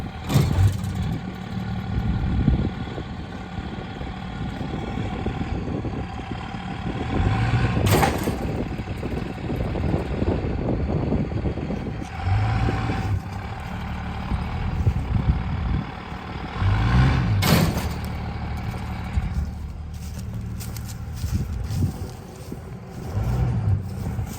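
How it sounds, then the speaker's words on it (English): A farm truck engine labors and revs in surges while tugging a seized-up vehicle, with loud bursts and rumbling strain rising and falling over a steady mechanical drone. "we're going to give her a little bit of a tug with the farm truck"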